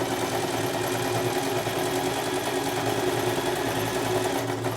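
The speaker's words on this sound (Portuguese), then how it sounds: "Costurei reto, faço um retrocesso de novo." Sewing machine stitching a straight seam on knit fabric, a steady, fast mechanical whir with a rapid even needle rhythm, close and continuous with no talk.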